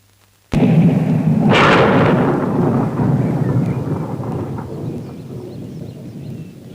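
Thunder breaks suddenly with a loud sharp crack, then rolls into a long deep rumble that slowly fades over several seconds.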